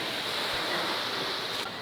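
Surf at a beach in a Cinque Terre town on the Italian Riviera washes in a steady, dense hiss, fairly loud and close, mixed with some wind noise and no voices.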